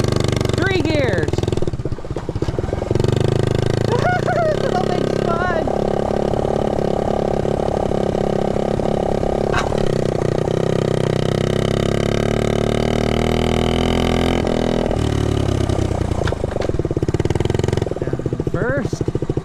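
A 1969 Honda Z50 mini bike engine runs close by, a steady buzzing, putting idle with small throttle changes throughout, while a voice talks briefly over it.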